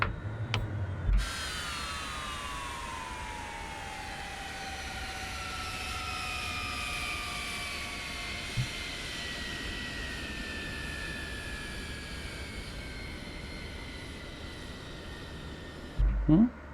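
HondaJet turbofan engines in MSFS 2024 spool down after thrust cutoff, with a steady falling whine that slides lower over about fifteen seconds, sitting beneath a soft roar and fading toward the end, clear and unbroken.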